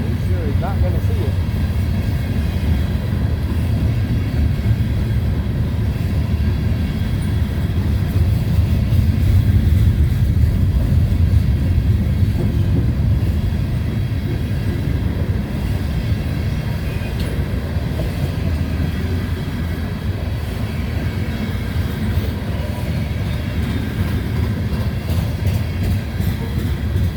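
A loaded freight train rolls past downhill, with a loud, continuous rumble and rail clatter filling the whole stretch and easing slightly toward the end, while a person talks over it.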